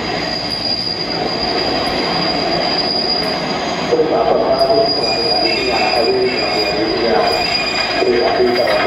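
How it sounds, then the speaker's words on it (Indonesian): A train rolls into a station in Thailand on the way to Ayutthaya with a loud, continuous squeal of wheels on rails, steady metallic screeching and rumble throughout, close by. "Keretanya datang."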